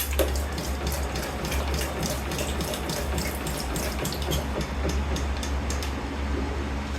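A rebuilt two-speed Delco Rochester wiper motor from around 1959 to 1962 running its washer cycle, a steady mechanical whir with a low hum and rhythmic splashing clicks, continuous and close, with no talk.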